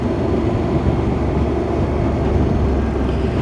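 A Morbidelli T1002V motorcycle trundling along in third gear on very light throttle, giving a loud, steady, smooth engine drone mixed with heavy wind rush, with no break or change throughout.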